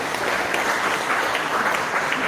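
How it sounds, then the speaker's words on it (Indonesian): Steady, dense audience applause at a pantun oration event, many hands clapping together at an even level throughout with no voices breaking through. "Tepuk tangan dulu, Pak."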